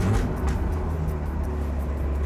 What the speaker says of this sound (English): It's got quite a throaty sound, but that's the stainless steel exhaust, which is brand new.